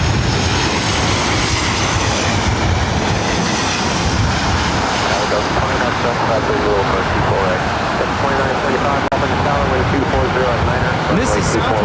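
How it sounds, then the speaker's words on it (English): A Southwest Airlines Boeing 737-800 lands at LAX, a loud close jet roar with rushing broadband noise that holds steady, a faint whine near the end. "This is Southwest Airlines 189 coming in from Sacramento on the 737-800."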